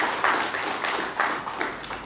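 Audience applause at a law faculty graduation ceremony at Universitas Gorontalo, a steady wash of many hands clapping with slight swells, fairly close and continuous without speech.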